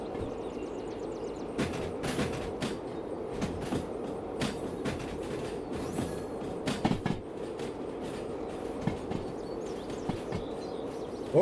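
A freight train rolls on rails in the Derail Valley simulation game, with a continuous rumbling roar and scattered sharp clicks and clanks from wheels and couplings, steady and fairly close throughout.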